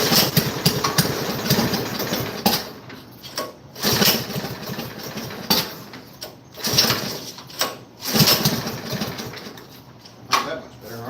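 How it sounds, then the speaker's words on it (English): A Troy-Bilt Bronco tiller engine runs outdoors after starting, a rough sputtering idle with uneven bursts and surges, close by, while people talk over it and birds chirp faintly. "Second pull it started"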